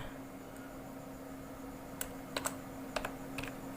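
Typing on a computer keyboard while entering text into an MS Word resume: a few scattered key clicks in the second half over a quiet room hum, no talking.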